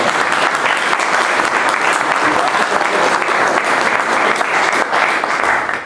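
Sustained applause from a large auditorium audience at a public event in Trebnje, Slovenia, dense and even, fills the whole stretch without pause.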